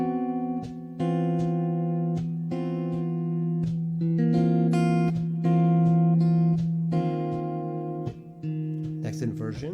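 Electric or acoustic guitar strumming a sequence of major seventh chord types, lowering one note at a time, each chord ringing out alone in a steady series of about eight strums with clear sustained tones.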